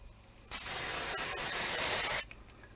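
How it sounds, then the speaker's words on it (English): A single continuous spray from a spray bottle hisses for nearly two seconds, close and fairly loud, then cuts off sharply, leaving quiet. "Let me just spray a little bit just for my own sanity"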